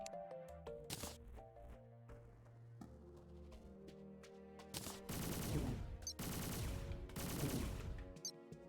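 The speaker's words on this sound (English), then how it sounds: "That's just shooting a laser." Laser weapons firing in Terraria with the Calamity mod, heard as sharp electronic bursts over a game music track that swell into dense, sustained blasts of fire.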